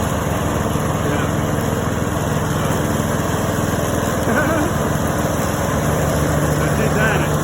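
A lawn mower runs steadily close by, cutting a lot of grass nearly a foot high, its engine droning loud and continuous throughout with faint talk in the background.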